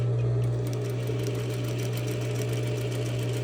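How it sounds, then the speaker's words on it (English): Sewing machine running steadily while stitching a seam sample, a continuous close motor hum with fast even needle rhythm for a few seconds, no pauses. "Now I'm right at my half stitch line. So I walked it back a stitch, pivoted, and now I'm ready to continue sewing."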